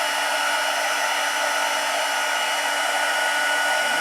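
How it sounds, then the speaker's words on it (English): A heat gun used for heat embossing on a papercraft vellum box project, giving a constant loud whirring blower hiss with a steady high whine, running unbroken and close throughout with no voices. "And just heat emboss all of this."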